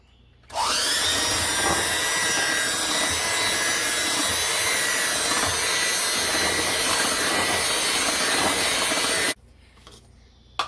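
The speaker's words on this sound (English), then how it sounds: "I'm going to mix this up with an electric mixer." An electric mixer beats boxed cake batter for a Bundt cake in a bowl, starting abruptly into a loud, steady whirring drone that holds for about nine seconds and then cuts off sharply, with no talk.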